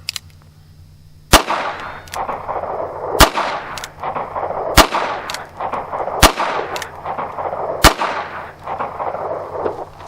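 Five sharp, loud shots from a North American Arms Black Widow .22 Magnum revolver firing 40-grain Browning rounds, evenly spaced about a second and a half apart, each followed by a short ringing decay.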